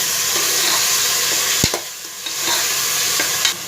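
Small garlic cloves and tomato sauté in a pan, giving a steady close sizzle with a few sharp utensil taps and scrapes as the mixture is stirred.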